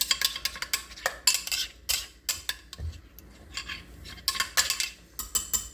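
Spoon stirring a cashew, cocoa powder and milk mixture, with quick clinking taps of metal against the container in rapid clustered bursts, close up and clear, with no voices.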